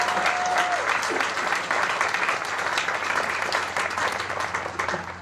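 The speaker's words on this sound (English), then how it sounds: "I think we owe another round of applause to both Trish and to Maddie." At a college undergraduate commencement ceremony, a large audience applauds steadily, producing a loud, dense, continuous wash of clapping that holds throughout with little variation.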